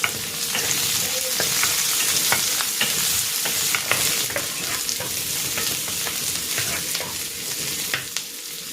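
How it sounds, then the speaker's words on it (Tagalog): Garlic and onion sautéing in cooking oil in a pan, a loud, steady close-up sizzle with frequent crackling pops and occasional stirring clicks throughout. "Magigisa na ako ng bawang. At ng sibuyas."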